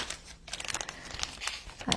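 Small plastic bag crinkling close by, a run of crackly rustles and crunches across two seconds with brief pauses, no talking.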